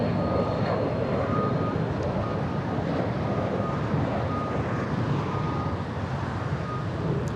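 A CRJ regional jet at LAX on a very windy day, its engine roar a steady, broad rumble that fills the whole stretch at moderate distance, with no voices over it.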